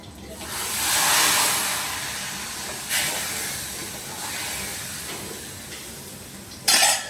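Mustard seeds, whole cumin and asafoetida hit hot oil as a tempering for kadhi, giving a steady close hiss and sizzle that swells early, with a sharp burst of crackle near the end.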